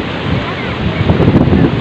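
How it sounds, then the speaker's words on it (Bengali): Big, rough sea waves surge onto the beach at Cox's Bazar under strong wind. The rush and wash is loud and close, with wind buffeting the microphone. "ঢেউগুলো অনেক বড়"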